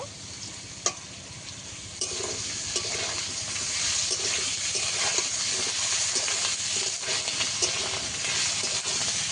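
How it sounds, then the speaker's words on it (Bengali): Ginger paste sizzles in a pan alongside fried potatoes, a steady hiss with scattered crackles and spatters, plus occasional stirring scrapes close by. "আদাটা আমি সামান্য ভেজে নিয়েছি"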